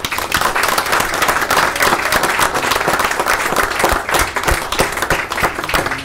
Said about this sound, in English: That needs a round of applause.